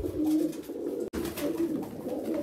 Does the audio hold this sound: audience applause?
no